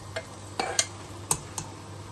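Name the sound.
metal utensil stirring in a non-stick pan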